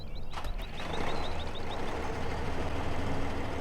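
Massey Ferguson tractor engine in Farming Simulator 15 starting up, a brief crank followed by a steady low diesel idle, with a row of faint high beeps running over the first couple of seconds.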